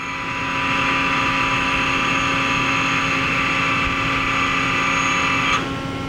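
A Mori Seiki NL3000Y CNC turning center runs its live tool at 2,700 RPM, giving a steady, loud mechanical whine and hum that holds evenly for several seconds before easing slightly near the end.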